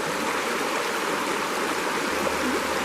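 Fast, turbulent stream water rushes over a sloped channel with emergent vegetation, a dense, continuous close roar without pauses.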